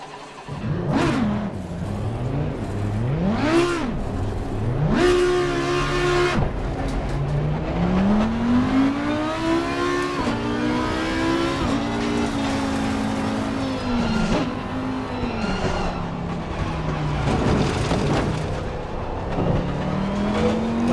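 Race car engine in Assetto Corsa Competizione, loud and close, repeatedly revving up through the gears with rising whines and sharp drops at each shift, building speed over a sustained run with no talking.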